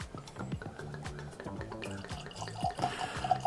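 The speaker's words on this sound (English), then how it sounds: "So yeah, let's pour some of this bad boy." Abraham Bowman bourbon poured from a bottle into a glass, a close, soft trickle and glug of liquid with a few gentle drips, no talking over it.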